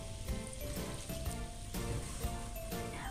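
Pork sizzling in a pan as fish sauce is added for pork sinigang: steady, close, crackling frying hiss with small pops throughout.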